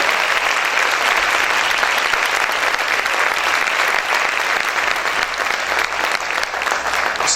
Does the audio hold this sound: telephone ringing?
no